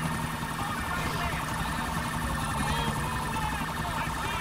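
A police car siren in the video game GTA 4 rises and falls steadily amid a dense, noisy game soundscape with engine rumble, continuous for a few seconds.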